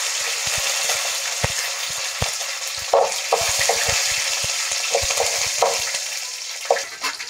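Curry leaves sizzling and crackling in hot oil for avalakki upma, a steady close frying hiss broken by sharp spattering pops, with no talk.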